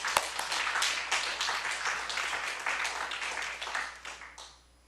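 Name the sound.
congregation applause in church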